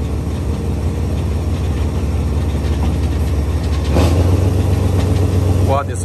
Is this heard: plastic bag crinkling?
no